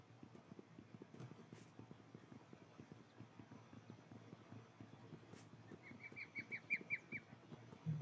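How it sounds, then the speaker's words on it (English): Chirping bird in Minecraft, modded RLCraft, with a short run of bright repeated chirps near the end over steady clopping footsteps and ambient game noise. "I hear a bird."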